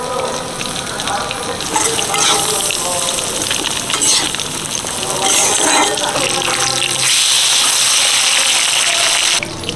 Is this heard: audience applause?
no